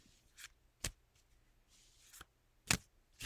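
Someone gives a deck of playing cards a casual shuffle. Three or four quick, soft riffling bursts are separated by near-silence.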